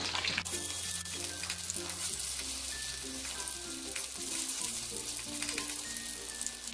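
Paneer cubes frying in a pan of hot oil make a steady, close bubbling sizzle with faint crackles, continuous throughout and without voices.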